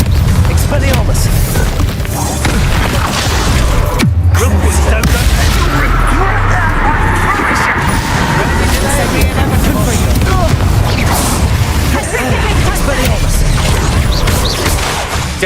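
Expelliarmus spell blast in a Hogwarts Legacy wizard duel, amid loud booming impacts, crashes and whooshing bursts that roll on without pause, with one sharp hit partway through.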